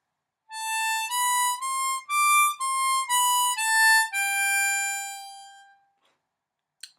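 A harmonica plays a song phrase alone and clearly, a run of about eight steady blown and drawn notes moving stepwise, ending on a longer held note that fades into silence.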